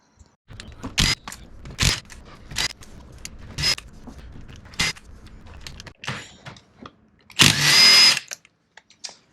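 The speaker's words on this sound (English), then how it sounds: "the old rattle gun makes that quite an easy job" A rattle gun hammers at E12 Torx bolts on a car axle in a series of short, sharp bursts with pauses between them, ending with one longer, louder burst.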